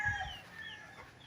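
Chickens and roosters at a game farm with a training pen, brief faint clucking and calls at a distance in a quiet outdoor setting.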